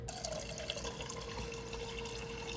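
Water from a tap pours steadily into a pot for cooking rice, a continuous splashing rush heard close and alone.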